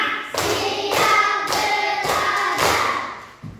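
A class of children clap hands in unison following a counted rhythm, five or six loud, evenly spaced bursts of clapping close by.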